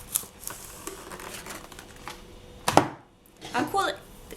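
Scissors snipping through plastic cling wrap in a craft workspace, a sharp close cut followed by crinkling of the sheet, with a person talking quietly around it.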